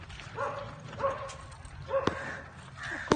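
A dog by an uphill, broken road gives a few short, scattered barks and yips at moderate distance over faint outdoor background.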